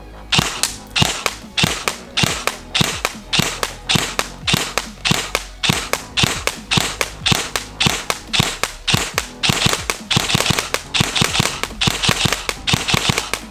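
A G&G ARP566 3.0 airsoft electric gun fires a string of sharp, snapping shots up close. Each shot has a mechanical spring clack, and the bursts speed up toward the end, with no talking.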